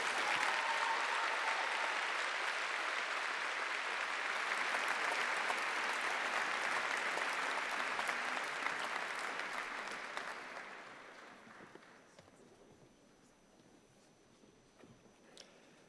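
A large graduation audience at an Imperial College postgraduate ceremony claps in a dense, loud wave for about ten seconds, then thins out and fades to scattered claps.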